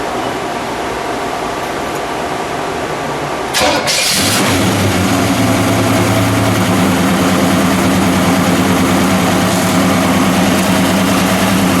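A chopped 1951 Mercury's engine cranks briefly and then fires up, settling into a loud, steady, rumbling idle that carries on close by with no talking.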